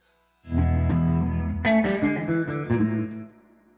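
A distorted electric guitar plays a short phrase of chords with a swirling, sweeping flanger effect, moderately loud and with no talking.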